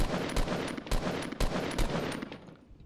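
Rifle fire in the Fortnite battle royale game crackles in rapid, loud bursts of repeated shots, which thin out toward the end, with no talking over them.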